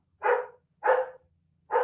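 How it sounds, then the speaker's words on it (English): A dog barks three times indoors at a steady pace, each bark loud and close, with near silence in between. "Sorry for the dog."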